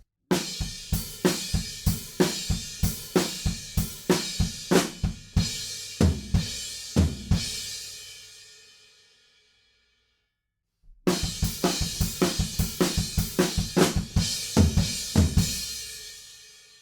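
Drums pound out a steady driving pattern of evenly spaced hits with crashing cymbals, fading out, then the rhythm starts again, busier and louder.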